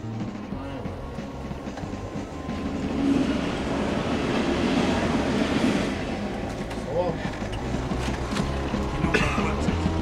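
Steady rumble of a Class 37 diesel locomotive hauling a train, with low engine drone and faint rail clatter throughout, fairly loud and continuous.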